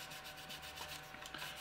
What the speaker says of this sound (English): you can always come in with a green and white polisher